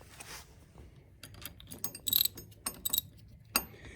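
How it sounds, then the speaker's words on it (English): A socket ratchet with an 11 socket tightens lock nuts on Can-Am Spyder highway pegs, making quick bursts of close, crisp clicking with short pauses between strokes. "I'm going to use a number 11 socket to tighten them down."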